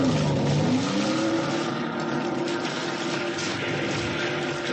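A speedboat driven by two 30-horsepower Johnson outboard motors roars steadily at close range, its engine note rising and sliding in pitch as it pulls away at speed over choppy water on a windy day.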